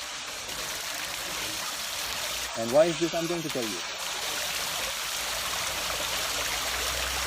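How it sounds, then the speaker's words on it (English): Spring water pours out steadily in Jericho, a constant rushing flow heard close and continuous, with someone speaking briefly over it. "Look at how the water comes out here. It's incredible. This water is flowing out permanently all the time."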